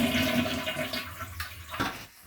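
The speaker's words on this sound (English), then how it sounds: "I'm going to flush the tank here so we can get all this water out" A toilet tank flushed to drain its water during a toilet replacement, a loud close rushing swirl that roars steadily and then tapers off as the bowl empties.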